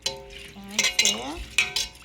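Jollof rice with chick peas stirred in a cooking pot, a few short scraping and sloshing strokes with a spoon, close and moderately loud, while a voice hums and speaks briefly over it.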